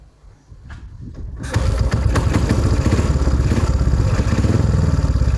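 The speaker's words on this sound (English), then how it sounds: "The bike started pretty easily. Didn't want to rev it too high and piss off the neighbours." A methanol-fuelled speedway motorcycle engine fires up after a second and a half of cranking, then settles into a loud, rapid, clattering idle held at low revs, close by.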